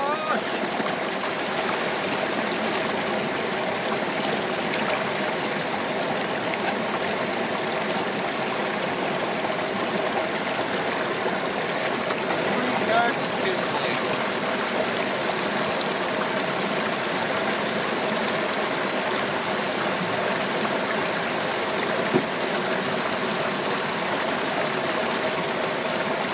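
Water rushes steadily through a sluice, washing gold-bearing material and heavy black sand. The gush is loud and continuous for the whole stretch, with no clear speech over it.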